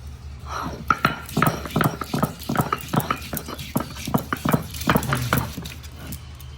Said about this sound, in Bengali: একইভাবে আদাও বেটে নেব।